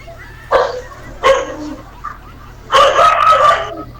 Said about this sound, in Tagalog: Aso ang tumahol.